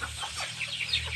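Chickens cluck briefly and softly at close range in a short burst of farmyard fowl calls, with no talking.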